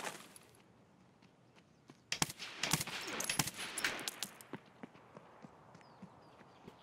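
Gunfire in the snowy Escape From Tarkov shooter: a sharp burst of several loud, close shots with echoing tails, preceded by quiet ambience and followed by scattered fainter cracks and footstep-like taps.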